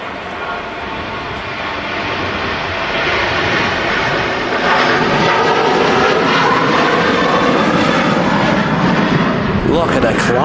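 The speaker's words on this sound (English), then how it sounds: "Such as this Ryanair 737-800 off to Agadir" A Ryanair Boeing 737-800 airliner taking off at an airport, its engine roar building from a steady rumble into a loud, broad sustained thunder, with no talk.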